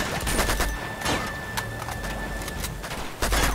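Gunfire in Uncharted 2: Among Thieves, with scattered bursts and single shots from several guns mixed with clattering battle noise, moderately loud and with no talk.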